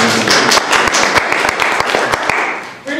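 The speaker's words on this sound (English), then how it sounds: "Good applause." A small audience at a poetry reading in Jefferson Market Library claps together, with sharp individual claps standing out close by before the applause thins and stops.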